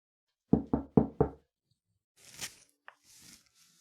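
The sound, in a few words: knock at a door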